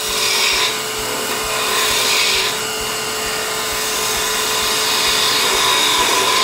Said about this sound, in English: Then I go back to doing my bevel rubbing cuts.